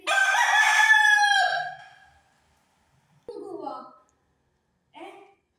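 A rooster crows once, loudly and up close, in a long drawn-out call. A few short voiced sounds follow after a pause.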